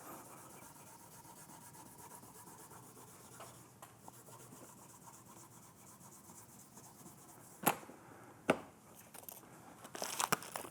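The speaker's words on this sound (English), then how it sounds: "Polish the frets. And then I turn it over and go back the other way." Guitar frets are polished by hand, rubbing back and forth in a soft, continuous rasping scrub close up, with a few sharp taps and handling clicks near the end.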